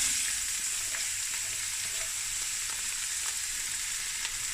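Three large roughly chopped onions sizzle steadily in oil in a pot, a continuous bright frying hiss with small crackles, close and alone, for Cape Malay denning vleis in Cape Town.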